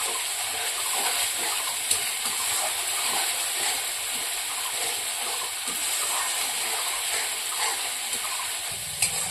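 Water from a rinsed mixer jar pours into masala cooking in a pan for Pabda macher paturi, making a steady hiss and sizzle that runs throughout with faint clinks.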